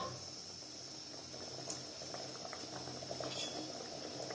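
Chicken curry bubbling in a pot, a soft continuous boiling burble with small pops and a faint clink of a utensil, heard quietly and close.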